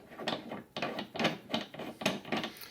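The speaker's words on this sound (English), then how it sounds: "Then we begin putting our sizing die into the press." A steel sizing die is turned into a reloading press, giving a steady series of rhythmic grinding, ratcheting scrapes of metal threads, about five close, repeated strokes with no voice over them.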